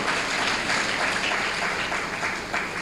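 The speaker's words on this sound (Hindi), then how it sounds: "क्या जोड़े बैठे हैं, ताली बजाइए" Steady, dense applause from an audience at a spiritual talk in Chhattisgarh fills the whole stretch, loud and continuous with no voices over it.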